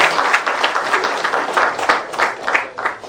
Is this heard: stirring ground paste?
no